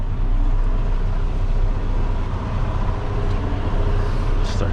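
A video game truck engine drones steadily and loudly throughout, a constant low rumble of a heavy vehicle driving.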